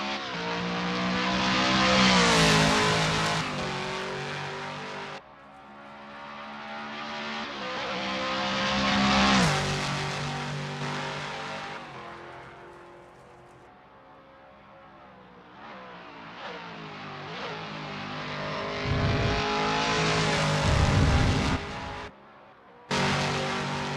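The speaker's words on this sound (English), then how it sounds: "The roaring engines are echoing Smells Like Wee's battle cry." Race car engines roar in Assetto Corsa, Toyota Supra LM GT1 cars at Road America, swelling and fading through repeated revving passes with sharp shifts and brief dropouts, loud and continuous for the whole stretch.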